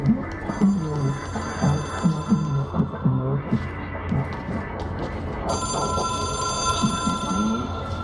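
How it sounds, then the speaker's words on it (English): Telephone in the video game Control rings with a bright, sustained electronic trill layered over throbbing low game ambience and a pulsing hum, loud and close, no voices. "It is a phone."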